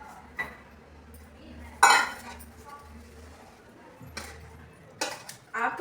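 Pots, dishes and cutlery clatter and clink sharply at irregular moments during after-dinner washing up in a home kitchen, with quiet gaps and a low hum between the knocks.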